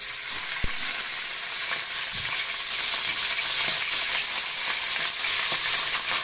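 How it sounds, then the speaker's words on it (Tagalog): Homemade beef tapa fries in a pan with a steady, loud, close crackling sizzle and occasional stirring scrapes throughout. "Piprito na tayo ng tapa."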